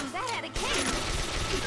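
Gun attack in the turn-based role-playing game Persona 5 Royal, a short burst of rapid firing that kicks in abruptly after a quieter moment, loud and close, over game sounds and a talking voice.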